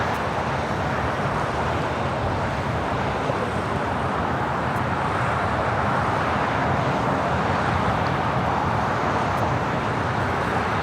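An Emirates airliner taxis toward the Tom Bradley gates at LAX after landing, its engines a steady, broad roar that holds without break throughout, mixed with distant road traffic and wind.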